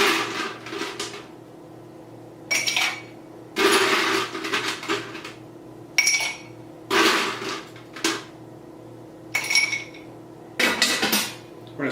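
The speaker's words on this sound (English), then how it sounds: "Take that, add some ice." Ice cubes go into a cocktail glass for an Old Fashioned made with Skrewball whiskey and chocolate bitters: a series of close, sharp clinks and clatters in separate bursts, with quiet gaps between.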